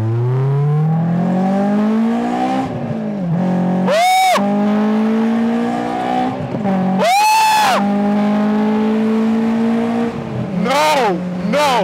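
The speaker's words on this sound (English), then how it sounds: "Listen to this exhaust." A Honda S2000 sports car exhaust revs hard and close, rising and falling in loud throaty sweeps several times over.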